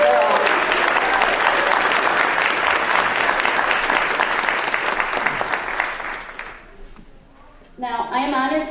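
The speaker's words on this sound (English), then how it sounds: "And let's give one more round of applause to these students from 118." A crowd at a Veterans Day ceremony in Belleville, Illinois applauds students, loud dense clapping for about six seconds that fades out, followed by a brief lull and then a voice over the sound system.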